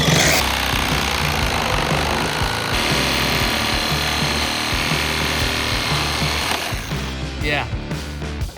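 A Sawzall reciprocating saw cutting out the windows of an off-road Jeep, a loud continuous buzzing and rattling drone close up that runs for several seconds before winding down amid clatter, with speech underneath.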